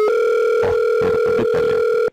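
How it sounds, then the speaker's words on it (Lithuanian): Steady telephone dial tone on a landline at a radio station, running continuously for about two seconds before cutting off abruptly; faint clicks and brief noises from dialing a number sit over the tone, with no voices. "tai bandom surinkti numerį"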